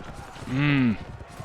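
Horse hooves clip-clopping in the video game Mount & Blade With Fire & Sword during a fight with bandits near villages, a soft rhythmic trot under a brief voice-like vocal sound lasting about a second.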